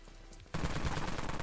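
Heavy machine gun firing in the Dead Frontier video game, a sudden dense burst of rapid shots that starts partway through and continues steadily to the end, loud and close.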